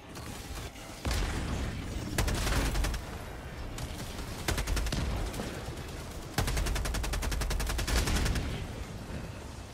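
Heavy bursts of gunfire in Helldivers 2 come in several long rapid volleys separated by brief pauses, loud and close with booming low end and no talk.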